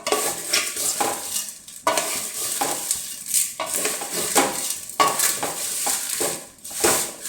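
Vermicelli dry-roasted in a pan without ghee during Onam cooking, with a spatula repeatedly scraping and stirring in uneven bursts, a light rustling crackle running underneath, close and fairly loud with no talking.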